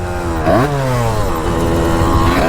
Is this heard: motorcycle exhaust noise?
yes